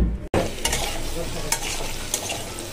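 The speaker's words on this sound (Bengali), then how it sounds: "এখানে পটল আর আলু ভেজে নিচ্ছি, তরকারিটা করব।" Pointed gourd and potatoes fry in a pan, giving a steady, close sizzle with a few stirring scrapes and clinks over nearly three seconds, with no talking.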